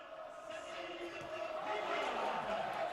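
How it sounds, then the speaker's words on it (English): A football stadium crowd at AS Saint Priest versus Valenciennes FC swells in a rising roar during added time of a cup match, building steadily louder over a few seconds beneath a commentator's voice. "The crowd responds."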